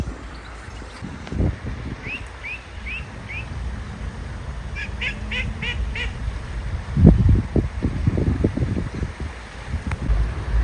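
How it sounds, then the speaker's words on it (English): Small ducks at a pond give two short runs of rapid quacks, moderately close, over steady wind noise on the microphone with some splashing and bumping, and no speech. "How cute are these little ducks though?"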